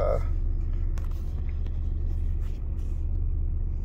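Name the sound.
2004 Astro Van 4.3 Chevy Vortec engine running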